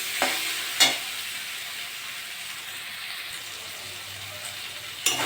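Ginger-garlic spice paste fries in a pan with a steady low sizzle and hiss, broken by a few sharp scraping stirs near the start and end, close by with no talking.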